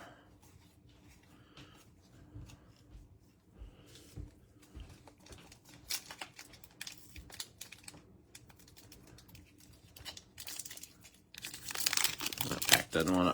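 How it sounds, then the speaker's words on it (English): A foil IndyCar trading card pack is torn and crinkled open, with scattered crackles and rips that grow louder and denser near the end, under a voice talking. "That pack doesn't want to open."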